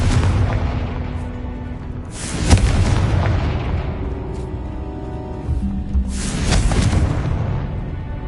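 Hogwarts Legacy spell blasts, Bombarda and Confringo, in a video game: two loud, broad booming explosions around two and six seconds, each rolling out over a steady wash of game sound.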